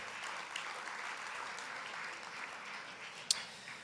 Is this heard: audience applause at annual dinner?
yes